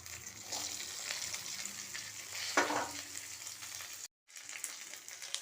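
Chopped banana flower fries in oil in a pan with urad dal and curry leaves, giving a steady soft sizzle with stirring scrapes and a brief cutout near the end.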